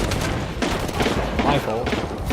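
Gunfire in Shadow of the Tomb Raider crackles in dense, loud bursts of overlapping shots, close and continuous across a short stretch.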